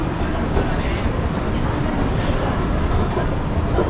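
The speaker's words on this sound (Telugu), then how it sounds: "ఇట్లా ఉంటుంది రైల్వే స్టేషన్." Railway station ambience at Dehradun just after a train pulls in: a steady rumble of rail traffic and station bustle with faint background voices, continuous throughout.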